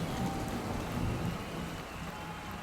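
Steady heavy rain with a wash of wind, a dense continuous hiss of falling water with low rumbling underneath, fairly close and unbroken.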